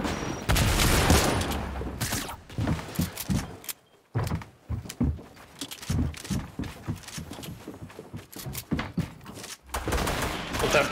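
Infantry rifle shots ring out in a Fortnite Season 8 match, with bursts of sharp, close gunfire and then scattered single reports. Loud gameplay commotion runs throughout.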